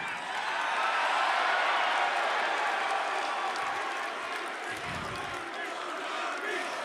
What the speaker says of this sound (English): Hold your applause till after I'm done, please.